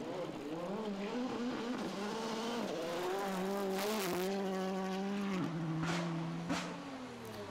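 A Porsche rally car powers across a gravel stage at the Sezoensrally in Bocholt, its engine note rising and falling through gear changes with loose-surface scrabbling, loud and fairly close throughout.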